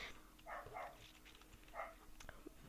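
Dog barking in the Unfair Mario video game, several short, quiet barks in quick succession, soft and clipped like game audio.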